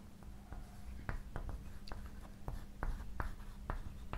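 Chalk or marker strokes on a board during a physics lecture derivation, a series of short taps and scrapes in an irregular rhythm, close and fairly quiet, with no talking.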